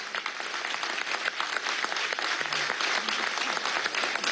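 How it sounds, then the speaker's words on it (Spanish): Dense, steady applause from a large crowd of Venezuelan citizens at a presidential speech honoring the Bolivarian army, continuous and loud without letup, with a faint voice briefly surfacing underneath. "Un aplauso del pueblo de Venezuela a nuestro ejército bolivariano"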